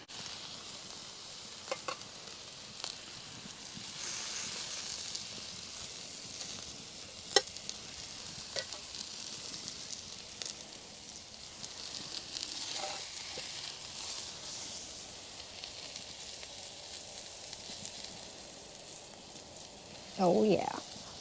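Food sizzles and steams steadily on a cast iron griddle over a campfire outdoors, a soft continuous hiss with occasional crackles, plus a brief louder sputter near the end.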